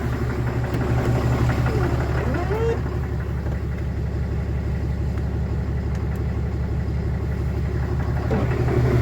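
A Cummins diesel engine idles close by with a steady, even rumble and rapid regular clatter, while someone speaks over it.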